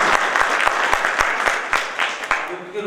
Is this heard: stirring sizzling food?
no